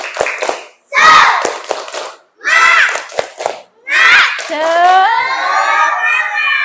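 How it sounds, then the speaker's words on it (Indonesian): Schoolchildren in a classroom perform a rhythmic spirit clap, loud bursts of patterned group clapping mixed with chanted shouting, ending in a sustained collective cheer. "Coba tepuk semangat."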